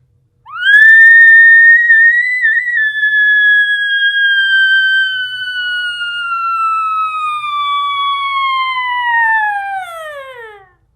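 A single high-to-low drill blown on a diaphragm reed elk call imitates an elk cow, with a sustained whistling tone that falls steadily in pitch for about ten seconds before cutting off, loud and alone.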